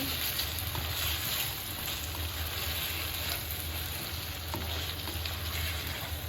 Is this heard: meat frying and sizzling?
yes